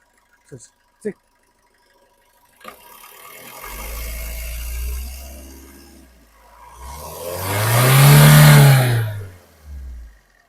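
After a few sharp clicks, the diesel engine of a 2014/15 Maruti Swift VDI revs twice, a shorter rise then a louder, longer surge that drops back, close by.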